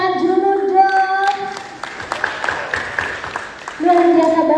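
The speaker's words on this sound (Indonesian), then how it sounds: "Kita kasih tepuk tangan dulu dong." Applause for a guest during an Indonesian Instagram Live chat, a few seconds of scattered clapping heard between stretches of a voice talking over it.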